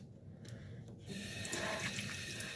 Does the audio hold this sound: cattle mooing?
no